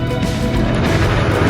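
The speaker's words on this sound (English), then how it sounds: "That is a Chevy V8, obviously, in the back of that car." Loud, close roar of a Chevy V8 mounted in the back of a GT supercar at a Brands Hatch race weekend, a dense low rumble building steadily as the car pulls away, with no speech over it.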